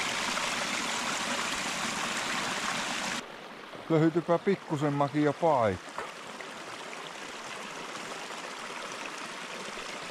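Steady broadband rush of a forest stream flowing at Vaakkoi outdoor area in Finland, continuous throughout, with someone briefly talking over it midway.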